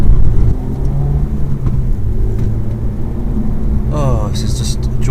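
A car driving on the road with a steady low engine rumble and tyre roar as it picks up speed, loud and close from inside the cabin, with a brief squeaky whine near the end.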